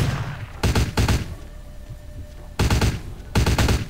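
Gunfire from a ranged weapon in the game Vampire the Masquerade Bloodlines: four loud, close bursts of rapid shots, two early and two late, separated by a quieter stretch with a faint hum.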